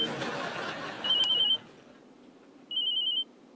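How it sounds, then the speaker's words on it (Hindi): A telephone rings late at night in a home, two short electronic trilling bursts with a pause between them, heard over faint room noise and a brief low voice. "भगवान, इतनी रात को कौन फोन कर रहा है?"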